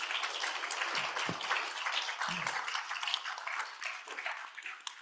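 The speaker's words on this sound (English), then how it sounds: "I would like to ask you all to give them a big round of applause." A conference audience gives a panel a round of applause, a soft, even patter of many hands clapping at a distance for several seconds.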